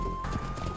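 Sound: horse hooves clip-clop in Age of Empires II video game

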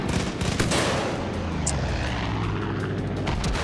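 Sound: gunfire in the video game Far Cry 5

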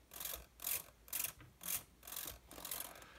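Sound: RC servo moving Guillows Zero ailerons

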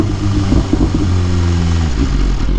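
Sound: motorcycle engine while parking

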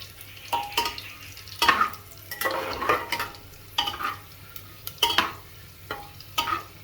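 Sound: whole coriander and spices frying in a pan

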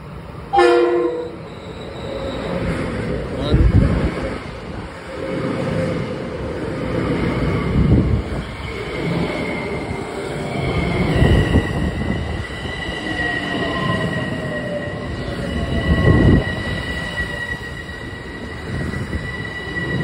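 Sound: passenger train riding on rails

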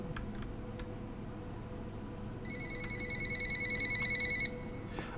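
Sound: telephone ringing in the video game Recursive Ruin

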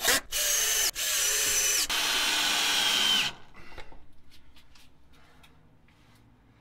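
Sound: power drill driving heavy duty screws into wall

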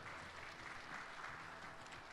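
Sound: audience applause at J.League kickoff conference

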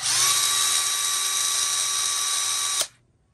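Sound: Ridgid R86001 cordless drill running

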